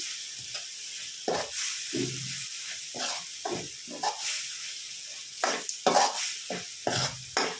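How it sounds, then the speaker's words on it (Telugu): Chili powder sizzles in an oily pan while it is stirred in for tomato rice, making repeated scraping strokes against a steady frying hiss, close and moderately loud, with no talk. "ఇలా 1 minute కలుపుకోవాలి. కారం మగ్గిందండి."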